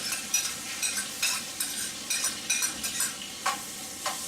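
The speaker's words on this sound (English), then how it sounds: "And we're going to saute that for a little while." Soaked dry chilies, green onions and strips of green pepper sauté in butter for a Jamaican curry crab, sizzling steadily up close with repeated stirring scrapes in a loose rhythm, no voices.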